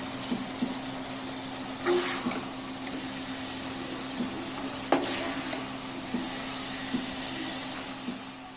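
Chicken and beetroot frying in a pan give a steady low sizzle and hiss with occasional small pops and clicks, close and moderate in level, with no talk.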